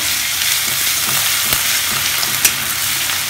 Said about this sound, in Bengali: তেলের সাথে একটু হালকা ভাজা ভাজা করে নিচ্ছে।